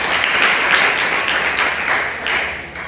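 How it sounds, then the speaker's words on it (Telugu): A church congregation bursts into loud, sustained applause, a dense wash of clapping hands filling the whole stretch without a break. "అందరం ఒకసారి గట్టిగా చప్పట్లు కొడదామా?"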